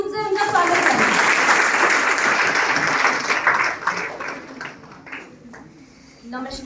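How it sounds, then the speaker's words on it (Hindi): An audience at a National Girl Child Day event applauds to welcome a manager to the stage: dense clapping, loud at first and then fading, with voices heard at the end. "कृपया तालियों की गूंज से उनका स्वागत करें।"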